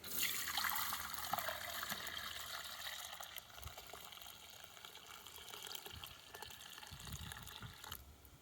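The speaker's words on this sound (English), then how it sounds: "Then we're going to pass our must, if you like, through the muslin as well and extract any extra stuff." Grape must poured through a muslin sieve, a soft continuous trickling and splashing of liquid that stays fairly quiet and steady throughout.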